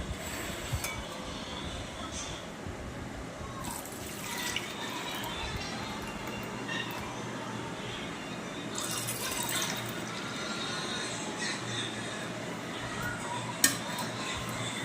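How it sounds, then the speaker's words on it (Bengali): Whisked milk and curd mixture for homemade sour curd pours into a setting container in a steady, close trickle and slosh, with a few light clinks and a sharp tap near the end. "এরপর আমি যে পাত্রে দই বসাবো সেটাতে ঢেলে নেব।"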